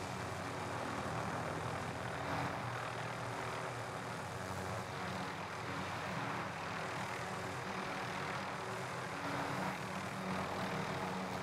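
A video game helicopter flies with a dense, steady engine and rotor drone that fills the whole stretch at a constant level, heard without speech.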